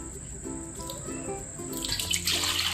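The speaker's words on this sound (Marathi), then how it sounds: "मी आता पाणी झाडून घेते" Water is poured off soaked rice and mixed lentils for appe batter, a continuous splashing trickle that grows louder and fuller toward the end, with no speech.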